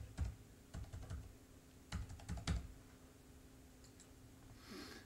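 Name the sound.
typing digits on a computer keyboard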